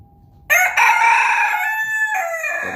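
A rooster crows loudly and close by, one long drawn-out call after a moment of quiet.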